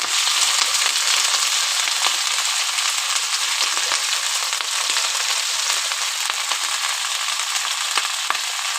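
Garlic and bottle gourd leaves fry in hot oil tempered with black cumin, giving a loud, dense, continuous sizzle with faint crackles and ticks throughout, heard up close.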